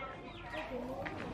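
Chickens clucking in a hurried, agitated burst as they are chased around a Vietnamese home, heard close under overlapping excited voices.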